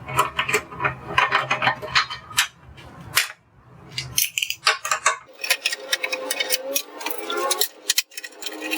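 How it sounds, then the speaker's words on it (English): A ratchet removing the four 13mm bolts from the power steering pump of a 2001 Chrysler LHS, rapid clicking bursts and metallic clinks of tools, close and irregular with brief pauses between runs. "Either use an air ratchet or a hand ratchet and take out the 4 13mm bolts."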